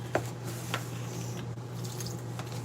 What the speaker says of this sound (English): Just going to mix this stuff together